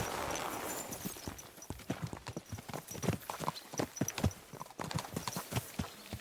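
Horse hoofbeats in a video game as riders set out, a rapid, rhythmic clip-clop of hooves that is moderately close and continues throughout, with faint ambient background and no voices over it.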